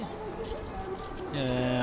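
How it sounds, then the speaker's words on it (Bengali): Close pigeon cooing, low throaty murmurs that swell into a louder rolling coo near the end, with faint background noise. "আমি একটা নতুন প্রজাতির একটা কবুতর কিনেছি।"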